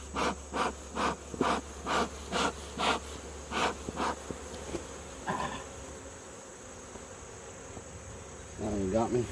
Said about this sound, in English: That's a bunch of bees.